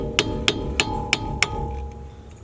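A hammer strikes a screwdriver at the front wheel hub of a 1999–2004 Ford Mustang, giving five sharp metallic taps at an even pace. The taps sit close and distinct over a steady low background hum.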